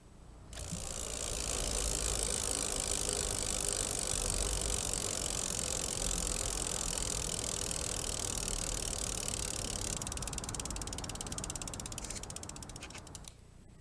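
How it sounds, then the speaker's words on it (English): Bicycle mechanism sound with a steady ratcheting, clicking freewheel texture, fairly loud and continuous for most of the clip before stopping abruptly near the end, with no talking. "Number 5 is the sound of a bike."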